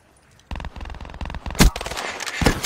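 Rapid automatic bursts from an AK-74U in a Call of Duty Black Ops 3 Search and Destroy match start after a brief quiet, firing in close, punchy strings broken by a few heavier cracks.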